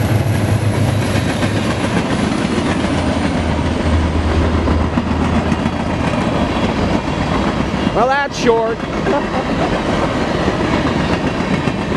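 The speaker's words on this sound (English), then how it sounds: "Yeah, I thought I'd film a train before I went to work." A BNSF SD70MAC diesel locomotive, engine 9620, hauls a short freight train past in Spokane Valley, Washington, with a steady close rumble and clatter throughout, a brief squeal near the end, and someone speaking briefly.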